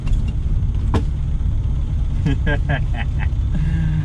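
Small three-wheeler car driving along, a steady close engine and road rumble throughout, with a few brief squeaks and clicks partway through.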